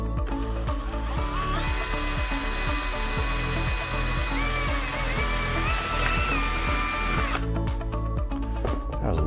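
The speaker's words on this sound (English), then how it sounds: "For the second hole off to the side, I'm using a drill bit" A power drill with a 5/16-inch bit drilling a hole in a plastic cup whines steadily throughout, its pitch wavering and shifting toward the end, with no talking.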